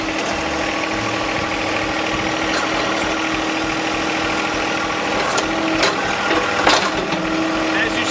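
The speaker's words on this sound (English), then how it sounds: "I'm going to raise our outriggers." A John Deere 1025 compact tractor engine runs steadily at a constant idle while the backhoe outriggers are raised, a loud, close mechanical drone with occasional clanks on top.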